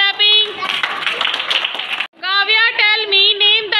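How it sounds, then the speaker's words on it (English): A class of second-grade schoolchildren claps together in a classroom, loud and close, a dense burst of clapping mixed with children's voices that continue throughout. "Do clapping."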